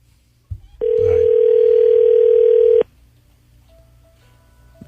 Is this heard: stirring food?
no